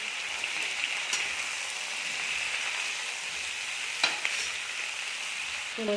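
Potatoes tossed with spices in a hot pan for a capsicum and potato sabzi give off a steady, close sizzling hiss, with a few faint spoon scrapes and clicks and no voices.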